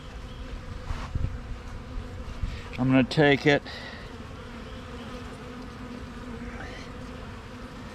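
Bees in a comb buzz faintly and steadily throughout, with a brief spoken phrase in the middle.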